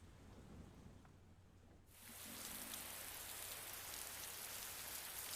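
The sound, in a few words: rain on a rainy night in video game Persona 4 Golden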